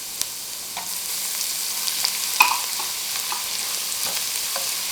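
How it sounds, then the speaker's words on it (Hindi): Finely chopped garlic fries in a pan while being stirred for a Chinese-style prawn fry biryani, giving a soft, steady sizzle with scattered small crackles and scraping stir sounds, heard alone at moderate level. "इसे इस तरह से फ्राई करेंगे।"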